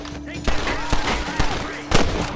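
Gunfire in the western video game Red Dead Redemption: several sharp shots at uneven intervals over a steady backdrop of game ambience and some voices.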